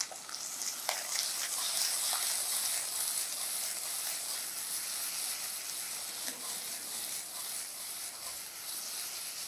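Finely chopped onions fry in a pan for a village-style drumstick curry, giving a steady, soft sizzle and hiss that carries on alone throughout.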